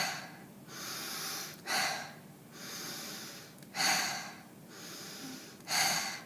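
Loud breath work exercise, with forceful breathing through the nose and mouth. Long rushing inhales and exhales alternate with three sharp, snorting breath bursts at roughly two-second intervals, close and with no talk.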